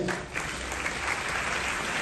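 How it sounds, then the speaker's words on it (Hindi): Audience applause at a student awards ceremony where a minister honours over a thousand meritorious students, a steady dense wash of clapping filling the whole two seconds at moderate level. "मैं चाहूँगा आकाश जी के लिए एक बार 2000 तालियां बजाएं।"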